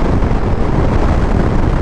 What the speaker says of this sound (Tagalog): Grabe lakas ng hangin ngayon.